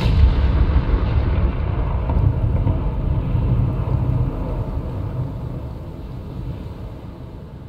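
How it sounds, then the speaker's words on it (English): Precision airstrike explosions in Call of Duty Modern Warfare (2020) on the Arklov Peak map roll out as a loud, continuous booming rumble that slowly fades over several seconds, with no talk. "friendly precision airstrike inbound"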